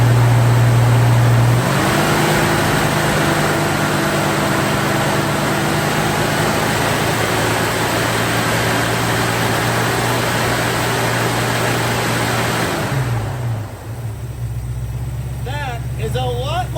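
A 1968 Plymouth Barracuda's 318 V8 rises from idle to a higher, steady rev held for over ten seconds, then drops back toward idle, close and loud, with a voice speaking briefly near the end.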